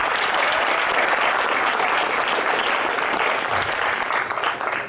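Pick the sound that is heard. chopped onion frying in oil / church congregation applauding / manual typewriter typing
church congregation applauding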